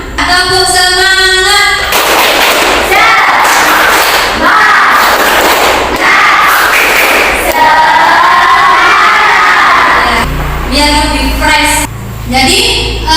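A classroom of students does a rhythmic clapping chant, loud group claps and voices shouting in unison with cheering, the pattern repeating in bursts over several seconds, with a teacher's voice at the start and end.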